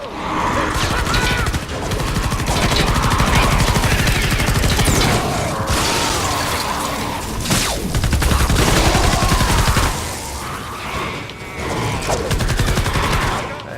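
Continuous, loud gunfire from the video game Fortnite Save the World, with rapid bursts, booms and crashes densely layered throughout, nearly unbroken from start to finish.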